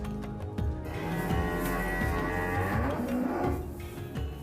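Cows moo repeatedly inside a farm barn where the cows have recently calved, several overlapping low calls close by, with steady barn noise underneath.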